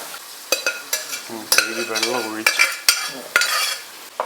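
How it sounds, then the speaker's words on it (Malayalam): Cowpeas sizzle in a hot pan of fried mustard seeds while a spoon scrapes and stirs in repeated sharp strokes. "കടുക് വറുത്ത പാനിലേക്ക് വൻപയർ ഇട്ടിരിക്കുകയാണ്"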